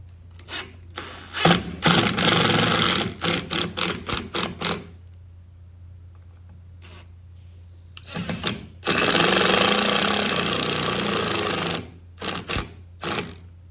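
A power driver whirs in repeated short bursts and longer runs while driving screws to mount a baby gate, loud and close with quiet pauses between.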